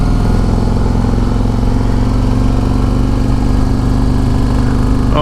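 A 2024 Harley-Davidson CVO Road Glide motorcycle rides at steady speed, its engine a continuous loud low rumble with wind noise throughout and no talking.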